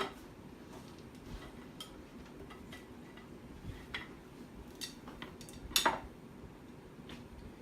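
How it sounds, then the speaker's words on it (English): A flan pan tapped on its sides to loosen a Mexican flan, light metallic clicks and knocks scattered through a quiet kitchen, with one sharper clatter near the end. "I like to tap it on the sides to release the sides from the pan."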